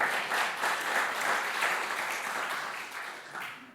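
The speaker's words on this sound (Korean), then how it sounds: "다시 한번 하나 영광의 박수" A Sunday worship congregation claps in applause, a full, sustained round of many hands that holds steady and then gradually tapers off toward the end.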